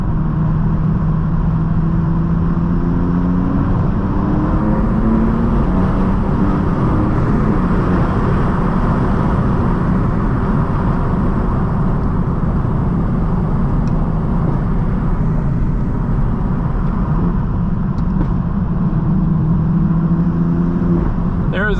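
Twin-turbo car running around 30 psi boost, cruising on a winding Arizona highway, a steady loud engine drone with road and wind roar that holds unbroken throughout, heard from inside the cabin.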